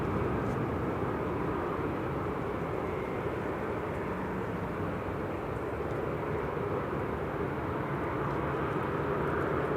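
Gulf Air Boeing 787-9 Dreamliner arriving at Manchester Airport from Bahrain, a steady broad engine roar that holds at a moderate distance for about ten seconds without talk.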